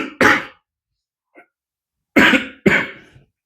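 Three harsh coughs ring out close by. The first stands alone, and after a quiet gap the last two come in quick succession.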